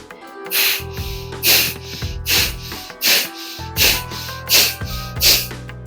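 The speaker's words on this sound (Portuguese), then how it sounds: "A respiração vai produzir ruído mesmo." Rapid, forceful abdominal breaths from yoga breathing practice in a steady rhythm, about seven sharp exhales in quick succession over a faint sustained musical tone.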